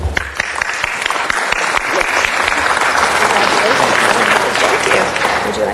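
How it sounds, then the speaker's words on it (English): Warm applause in a Los Angeles City Council meeting chamber honouring a long-serving city employee, dense steady clapping from the room that swells and holds for several seconds, loud and close. "would ask that you all give a warm applause for Terry Manocchio"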